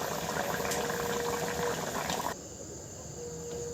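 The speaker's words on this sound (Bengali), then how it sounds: "কত সুন্দর ফুটছে দেখো তরকারিটা।" Potato and taro fish curry boils in a pot with a steady close bubbling hiss that drops noticeably in level partway through, continuing more softly to the end.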